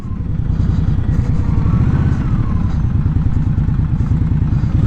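A 2020 Indian Scout Bobber Twenty motorcycle with forward controls and mini ape-hanger bars rides along in Long Beach, its engine giving a loud, steady, throbbing rumble close to the microphone throughout, with no talk.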